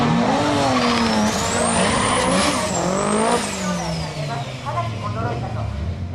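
A turbocharged Nissan S14 Silvia with a stroked 2.2 litre SR20 engine and T51R turbo screams through its gears at high revs in street drag racing, pitch climbing and dropping as it races past, loud and close; a voice talks over it.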